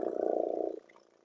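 A human throat produces a low guttural rolling rattle imitating a purring kitten, loud and steady for under a second before fading into a faint trailing rumble, with no other voices.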